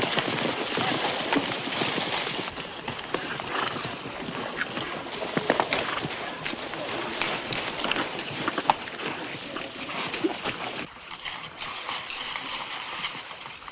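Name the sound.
horse hooves clip-clopping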